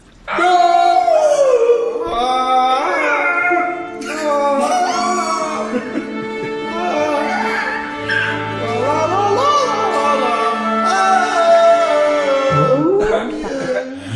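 Several people in a group imitate ape and monkey noises, loud whooping and howling voices with rising and falling pitch sweeps, sustained close to the microphone for about fourteen seconds.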